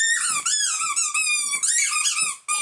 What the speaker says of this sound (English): He loves squeaky things that are really loud.